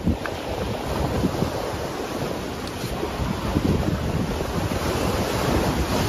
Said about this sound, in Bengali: সমুদ্রের গর্জন, মানে সমুদ্রের আওয়াজ নিশ্চয়ই আপনারা শুনতে পাচ্ছেন। জল এসে ঝাপটা মারছে একদম ক্যাম্পের পাড়ে।